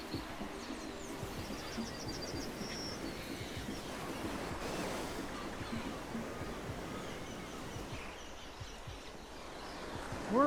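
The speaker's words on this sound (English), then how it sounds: "I could still hear the ocean." Ocean surf on the Costa Rica coast near a reforestation planting site rolls as a steady, broad wash, with faint bird calls and some wind noise over the continuous roar.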